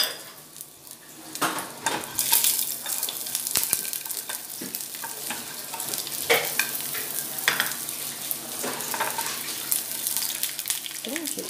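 Raisins and cashews frying in hot ghee for semiya prasadam, a continuous close sizzle with spoon scrapes and clinks against the pan, no talk.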